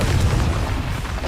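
A fire spell explodes in Hogwarts Legacy on PS5, a deep, continuous booming rumble that stays loud and dense for the whole moment with no pauses.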